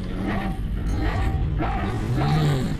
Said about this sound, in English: Yes, it is some kind of dog.